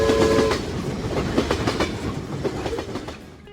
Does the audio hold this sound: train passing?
yes